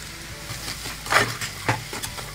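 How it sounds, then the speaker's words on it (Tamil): Boiled potatoes and green peas frying with chilli powder and garam masala for bread roll stuffing, a steady close sizzle with a few brief stirring scrapes, no voices over it. "இந்த மிளகாத்தூள், கரம் மசாலா தூள் பச்சை வாசனை போகிற வரைக்கும் நல்லா ஃப்ரை பண்ணால் போதும்."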